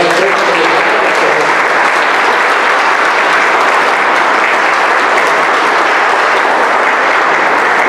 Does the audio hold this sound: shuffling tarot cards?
no